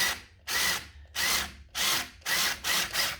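A power drill tapping a thread for a caster insert whirs in short repeated bursts, about six pulses with brief pauses between, straining and grinding as if working through metal, nearly stalling.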